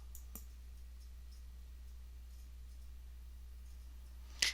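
Computer mouse clicks on a Save and Advance button, a faint click near the start and a sharper, louder click at the end over a quiet low hum.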